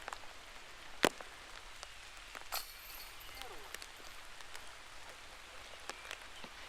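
Rain falling on a wooded disc golf course during a tournament round, a soft constant patter with scattered louder drips and taps, steady and fairly quiet throughout.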